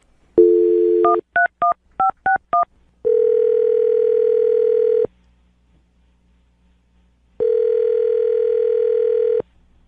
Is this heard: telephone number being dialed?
yes